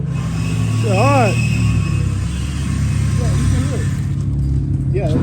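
An Infiniti Q50 with a muffler delete idles with a loud, deep rumble close by, swelling as the engine is revved, while several people talk and exclaim over it.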